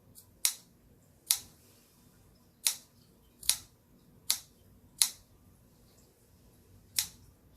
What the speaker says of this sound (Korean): 이렇게 가위 날을 이용해서 자를 건데